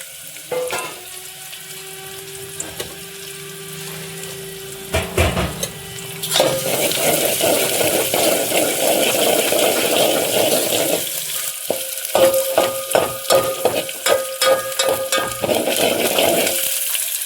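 Onion fries in oil in a pan for a village-style jackfruit curry, a loud, steady crackling sizzle with repeated scraping and clinking stirs and a few hum-like tones in between.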